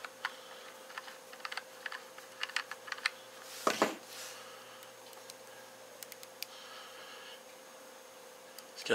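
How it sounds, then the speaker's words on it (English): Crisp, close clicks of the airflow control ring being turned on a UWELL Rafale vape tank, arriving in quick irregular bursts with a few louder detents, set against quiet room tone and no talk. "A nice clicky little airflow, and it stops"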